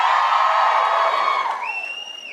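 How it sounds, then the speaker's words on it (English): A live show audience in Dublin cheers loudly as one continuous crowd roar with whoops and shouts, fading slightly toward the end as a few higher voices trail on. "Give us a cheer if you're from not Dublin and have come to Dublin especially for the show."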